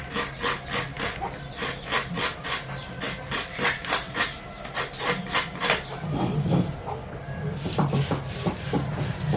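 Coconut being grated by hand for fish curry, a steady rhythmic rasping scrape repeated many times, close by, with a low voice murmuring now and then.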